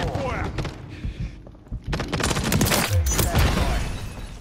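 Rapid pistol fire in a Call of Duty-style domination match, a burst of close, sharp shots with heavy thuds, broken by a short lull before more gunfire resumes.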